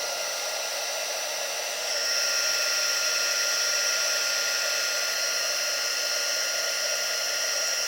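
Close, continuous high-pitched whine and rush of a heat tool blowing hot air over a paper craft piece, growing slightly louder after a couple of seconds and then holding steady, with no talk.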